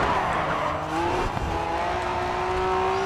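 A Honda race car drives through the Côte d'Azur night course in Grid 2, with a steady engine drone rising in pitch as it accelerates and light tire squeal, continuous and close with no talk.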